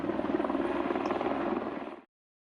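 A helicopter hovers near electricity pylons south of Ledsham, its rotor chopping in a fast, steady pulse at moderate distance for about two seconds before cutting off abruptly.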